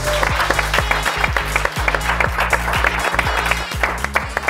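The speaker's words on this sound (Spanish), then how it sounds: "¡Un aplauso!" Live audience applause at a Seville event announcing Spain as a country in the Stream World Cup, a dense steady clatter beneath a loud, pulsing music track with a regular beat.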